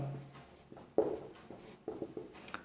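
Chalk or marker writing on a board in a maths class, faint scratchy strokes in short bursts, a few firmer taps, with quiet room tone between.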